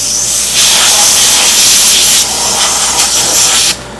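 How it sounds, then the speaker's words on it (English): A loud, steady hiss of compressed air blasts for several seconds through a vacuum chuck used for sanding, close to the microphone, then cuts off abruptly. "give it a little bit of blast air"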